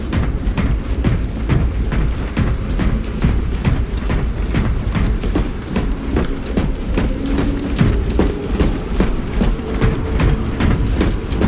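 A cargo elevator platform grinds along in the Space Marine 2 video game, a loud, steady mechanical rumble with repeated clanking hits at an irregular pace, heavy low drone running throughout with no voices.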